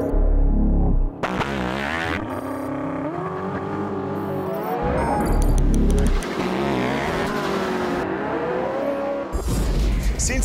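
A Porsche 918 Spyder plug-in hybrid supercar roars loudly and close, its engine revving and rising in pitch through several accelerations and gear changes, with no talk.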